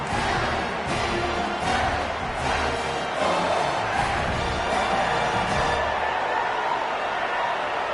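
A college football stadium crowd at a UCLA versus Clemson game roars and cheers continuously, a loud, dense din with occasional louder whoops and bursts of noise rising out of the mass.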